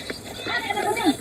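A horse neighs in a farmhouse setting with a rising, wavering whinny near the end, preceded by a few hoof clops. Voices talk at the same time.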